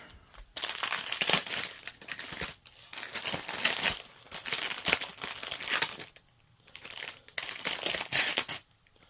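Plastic packaging around diamond art drills crinkled and crushed in close, repeated bursts of crackling with short quiet gaps between handlings.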